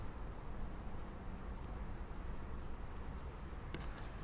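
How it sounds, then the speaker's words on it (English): A pen writing on a paper sewing pattern for a bodice, a faint, continuous close scratching with a couple of brief soft taps near the end. "You can write shoulder on there if you want that as a reference"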